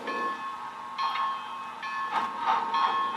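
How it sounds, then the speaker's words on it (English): A model railroad milk and mail train running on a layout, giving a faint continuous tonal hum with intermittent rattling clicks of wheels passing over track. "the milk and mail train returning without the milk cars"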